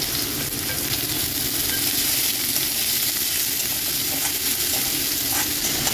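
Finely chopped onions sizzle and crackle in hot oil in a pan, a steady, close frying hiss with occasional stirring scrapes, continuous for several seconds and without talk.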